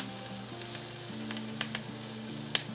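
Bread brushed with mussel juice sizzles softly on a medium-high grilling pan, a faint continuous hiss with a few small pops over a low steady hum.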